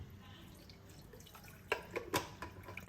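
Water splashes and trickles in a few short bursts, poured to wash the lemon-curdled milk while making cham cham sweets, fairly close and moderately loud.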